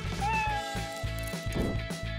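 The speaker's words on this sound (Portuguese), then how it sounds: "Olaf, você ganhou um gato" A cartoon cat gives a drawn-out meow over a bouncy musical backing with a steady beat.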